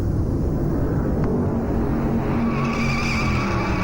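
A 1957 stock car engine roars on track at the Darlington Southern 500, a loud continuous drone with rising engine pitch toward the end, heard alone without talk.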